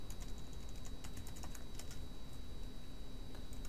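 Code being typed on a computer keyboard: fast, continuous key taps with an uneven rhythm, close but fairly quiet over a steady background hiss.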